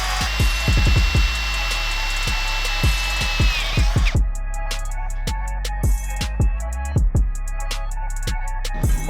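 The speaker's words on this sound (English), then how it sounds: "using a 6mm drill bit, I could drill 2 holes on either end of the steel" Sharp, repeated metallic impacts and scraping as a 6mm drill bit drills holes in steel, with a high whine early on that stops partway, followed by irregular clanks and knocks.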